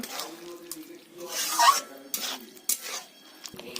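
Spiced food is stirred in a pot on the stove, giving soft scraping and clinking of a spoon against the pan in irregular strokes, close up and fairly quiet.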